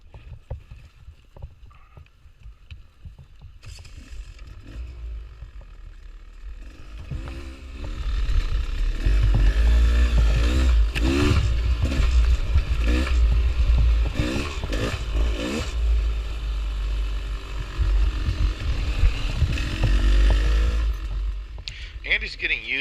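A KTM 1090 Adventure motorcycle rolls down a steep single track in Arizona, with low rumbling, clattering and wind buffeting growing louder midway, while voices talk over it throughout.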